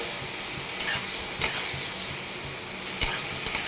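Poppy seed paste and green chillies fry in a pan with a steady broadband sizzle, broken by a few sharp scraping stirs of a spatula spaced through the clip, close and alone without talk.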